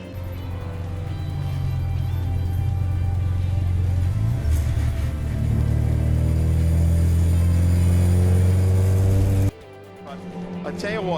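Porsche 944 race cars circulate on a track, with a steady, loud engine drone that shifts pitch midway, apparently under commentary, and then cuts abruptly to a quieter tone near the end.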